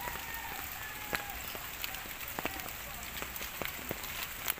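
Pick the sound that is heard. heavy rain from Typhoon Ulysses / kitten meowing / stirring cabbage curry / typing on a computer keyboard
heavy rain from Typhoon Ulysses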